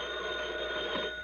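An old crank telephone rings as a fire-alarm signal for a volunteer fire department, a steady, unbroken metallic bell tone holding through the whole moment, fairly loud and close with no voices.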